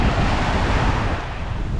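Sea waves breaking at a Gold Coast beach, a steady loud wash of surf mixed with heavy wind buffeting the microphone, continuous with no clear individual wave crashes.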